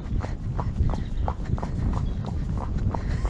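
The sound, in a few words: horse hooves walking during first ride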